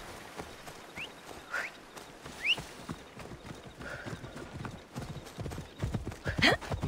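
Horse hooves clip-clopping in the Assassin's Creed Odyssey video game, a steady walking rhythm with a couple of whinnies and ambient game sounds around it, no talk.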